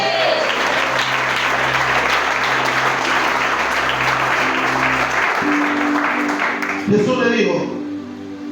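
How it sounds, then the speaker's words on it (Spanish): Congregation applauding at an evangelistic church service, loud dense clapping with cheering voices throughout, sustained held organ or keyboard tones underneath, ending in a brief shout. "Dale un aplauso a Dios"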